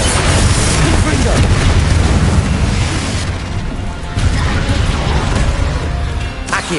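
Explosive Confringo blast spells in Hogwarts Legacy boom in loud, dense bursts with crackling debris, filling the scene almost continuously with a brief dip midway.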